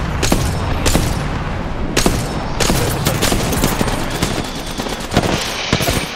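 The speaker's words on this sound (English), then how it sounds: "they're shooting right now" Repeated bursts of automatic gunfire from an online competitive shooter match on Faceit crackle steadily, with sharp louder shots standing out every second or so amid a constant rattle.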